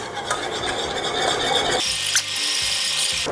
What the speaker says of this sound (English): Starch goes in, tea goes in, and whisk this up first